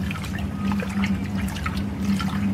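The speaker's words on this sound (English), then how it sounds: "I've never heard a machine so quiet. Look, it's washing" A vintage Westinghouse washing machine washing dirty garage clothes, giving a steady quiet sloshing and trickling of water over a low motor hum, close and continuous with no talking.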